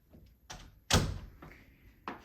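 A door in a house's game room is pushed shut, with a few light knocks and shuffles, then a sharp close thud, followed by a fainter bump and a soft tap, all nearby.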